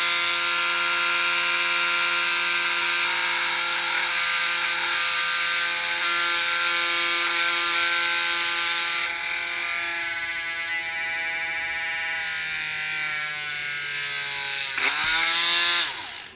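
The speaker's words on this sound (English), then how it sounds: "what I'm doing right now is drilling a hole down the middle" A power drill bores a hole down the middle of a collectible figure, giving a loud, steady, high-pitched whine held for many seconds that slowly drops in pitch under load, then dips and spins down near the end.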